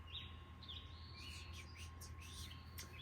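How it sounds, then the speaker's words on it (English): Birds singing outdoors, with faint scattered chirps and short warbling phrases over a low background hum, distant and soft throughout. "now we got some seriously pretty bird sounds"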